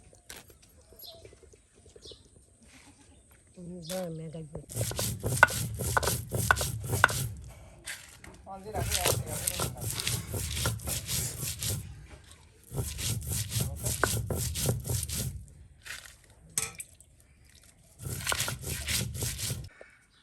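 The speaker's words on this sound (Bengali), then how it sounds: "আমরা কিন্তু একদম পাটাই ফেসে এই যে বাটা মশলা করে নিলাম" Spices ground by hand on a traditional flat grinding stone (pata) outdoors for a village fish curry, heard as repeated bursts of gritty scraping and rubbing strokes, several seconds each, separated by short pauses.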